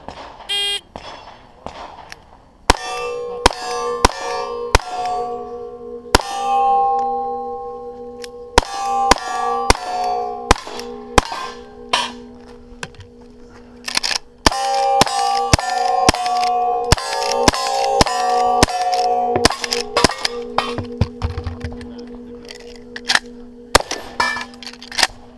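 Cowboy action shooting stage with rifle shots ringing on steel targets: repeated sharp bangs, each followed by a bright sustained metallic ring, coming in quick irregular strings over about twenty-five seconds with short pauses.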